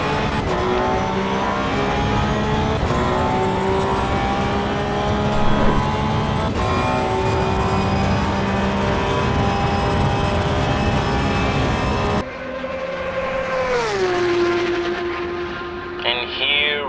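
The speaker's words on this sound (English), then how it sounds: "these popping and bangs, incredible backfire" A Porsche 911 engine in the Assetto Corsa EVO racing game drones at high revs with steady tonal harmonics, shifting pitch through gear changes and dropping off near the end. Pops are hard to pick out, and a voice talks over the engine.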